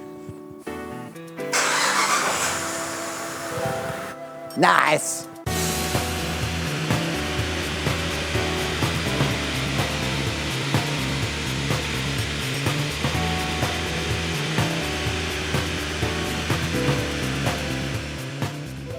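A Saab 9-3 with the 2.8 V6 turbo engine runs on a dyno: a short loud burst and pause, then a sustained mechanical drone with regular ticking pulses. A voice briefly speaks one word.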